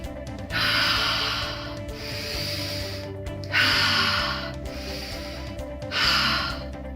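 Slow, deep breaths in and out, three long airy inhales or exhales in a steady rhythm, close and audible with no talk over them.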